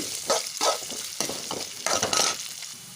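Onions frying in oil for a beans curry, a steady close sizzle broken by several louder bursts of stirring and scraping in the pan, with no voices.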